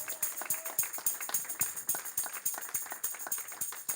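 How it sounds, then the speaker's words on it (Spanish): A church congregation claps steadily, many hands making dense, rapid overlapping claps that continue throughout at fairly close range. "Dale fuerte un aplauso al Todopoderoso en esta hora."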